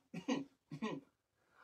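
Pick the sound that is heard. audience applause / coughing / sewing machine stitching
coughing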